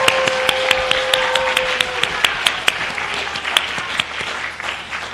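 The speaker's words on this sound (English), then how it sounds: "let's hear a big round of applause for them" An audience at a Bourne school committee meeting applauds the school theater cast, a brisk burst of clapping with a few sharp, distinct claps standing out near the microphone before it gradually thins.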